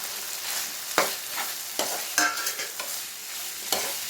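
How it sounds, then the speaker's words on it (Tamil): Fried prawns tossed into a sizzling onion-tomato masala for prawn roast, with steady frying hiss broken by several sharp spoon scrapes and stirring clatters close by. "இப்போ நம்ம பொரிச்சு வச்சுருக்க ப்ரான்ஸை இதில் சேர்த்துருவோம்"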